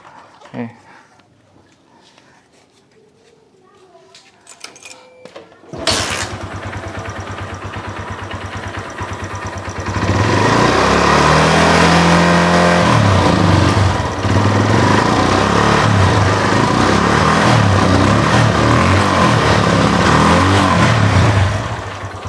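A motorcycle engine that may be damaged by bad oil. After a quiet start it fires up and idles loudly, then is revved hard and held at a high, roaring pitch close by.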